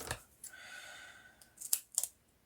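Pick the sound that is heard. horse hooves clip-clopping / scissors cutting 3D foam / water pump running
scissors cutting 3D foam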